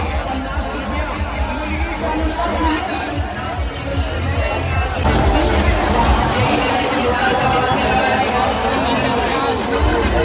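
Dense crowd noise at the Dahanu Mahalakshmi fair in 2026, a steady loud babble of many voices with shuffling and movement close around, growing fuller midway through.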